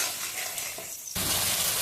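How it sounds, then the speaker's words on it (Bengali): Spices being stir-fried with soaked mung dal in a pan, a soft sizzle that swells suddenly into a louder, denser frying hiss, close up and without talk. "মুগ ডালটার সাথে মশলাটাকে আবার ভালোভাবে কষিয়ে নেব।"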